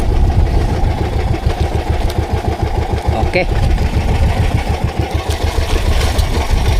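Fishing boat engine idling with a steady, rapid low chugging throb, loud and close throughout, while someone speaks briefly over it on the water.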